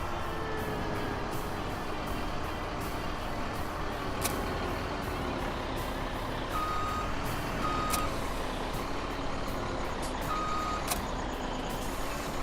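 Truck hauling sugarcane trailers on a farm backs up with repeated, evenly spaced reversing beeps over a continuous engine rumble, moderately distant with occasional air-brake hiss, no talking.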